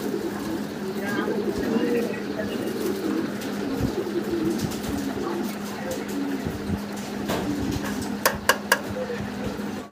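Danish pigeons coo softly on a pigeon farm beneath steady background chatter and room noise, with a few sharp clinks near the end.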